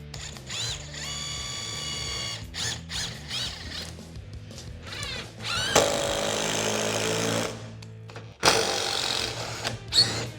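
A DeWalt DCF860 impact driver whirs and ratchets in bursts driving large screws, with high whining revs and short pauses between, loud and close; no speech.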